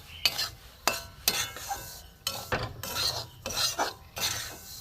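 Semolina being stirred and fried in a metal wok, repeated scraping strokes of a spoon against the pan at an irregular rhythm, close and moderately quiet, with faint sizzling beneath.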